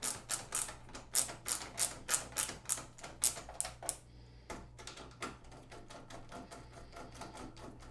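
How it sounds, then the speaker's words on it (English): Screws being driven in by hand during reassembly of a McIntosh MC2105 amplifier's front panel and dial assembly, giving a steady run of quick, close mechanical clicks and ratcheting ticks with a short pause midway. "you want to install the screw that goes here and the other that goes here"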